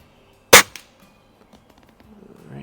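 A single sharp crack from a Daisy Model 131 .177 break-barrel air rifle firing a pellet outdoors, loud and close, followed by faint quiet handling noises.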